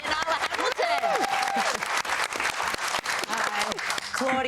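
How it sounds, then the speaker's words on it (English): Award-ceremony audience gives a big round of applause for an off-duty lifeguard honoured for bravery, steady dense clapping filling the room with a few cheers and voices mixed in throughout. "Please give a huge round of applause for the courageous Claudia Nallah Hamilton"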